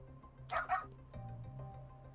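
In the video game Lost Judgment, a dog gives a quick pair of yips or barks followed by a low whimper, close and fairly quiet, with game background sound underneath.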